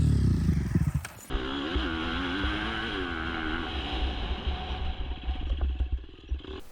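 A KTM motorcycle with carbon engine mounts revs hard through a race lap, its loud close engine note rising and falling with gear changes after a brief burst at the start, with no talking.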